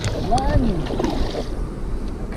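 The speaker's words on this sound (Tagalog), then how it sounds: "siya lang nagsasagwa na, hindi pa yung motor" Wooden boat on open water being rowed with an oar while the motor is off, soft splashes and water movement under wind noise, with voices speaking nearby.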